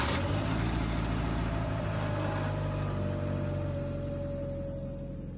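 A 1987 Dodge Aries Wagon engine catches with a sharp burst and settles into a steady rumbling idle, heard close from outside the car, gradually easing slightly in loudness.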